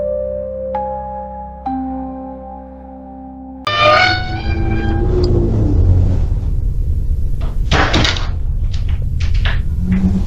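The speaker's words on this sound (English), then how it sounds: "The door moves by itself" An attic door in a disappointment room moves by itself, heard as a low creaking groan and rumble with scraping sounds after a short eerie musical intro, with no one speaking.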